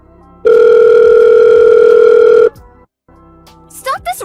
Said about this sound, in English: Pick up your phone, answer, and let me talk to my dad.